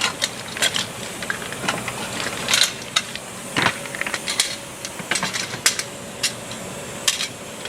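A ratchet clicks in short, irregular bursts as it works the lower cradle bolts on a 2006 Jeep Commander, with faint metallic clinks between bursts in a quiet workshop.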